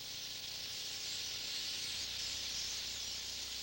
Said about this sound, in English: The most obvious thing about the sounds these birds make is that it's very loud and confusing.